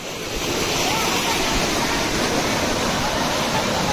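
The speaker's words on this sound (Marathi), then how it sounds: "एवढा बिच्चा अतिशय दुनियाचा भयानक असा पूर." Rushing floodwater of a flooded river in a rural setting, a loud, dense, continuous roar of churning water that fills the scene without letup, with wind noise on the microphone.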